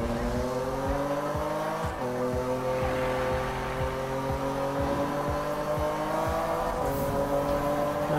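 Racing car engine in the 2015 Need for Speed game, loud and sustained with steady revving harmonics, a gear shift near two seconds and repeated rhythmic thumps, running throughout with no pauses.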